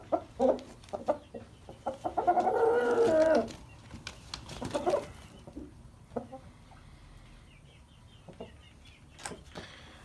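Chickens cluck and a rooster calls nearby on a farm, with scattered clucks and squawks continuing around a coop.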